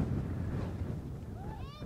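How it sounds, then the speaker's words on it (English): Low rumbling wind buffets the microphone throughout on a high spot in the Wichita Mountains, Oklahoma, with a faint whistling tone near the end. "Yeah, it's pretty windy up here."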